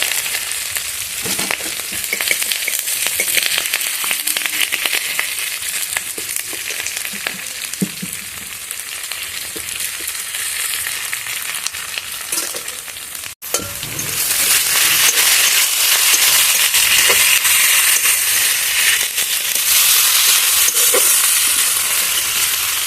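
Curry leaves fry in hot oil in a pan, giving a steady, close crackling sizzle that briefly dips midway, then surges louder and denser for the rest of the stretch, with no talking.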